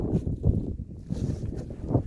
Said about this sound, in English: So the wind's gusting here probably between 10 and 15 miles an hour.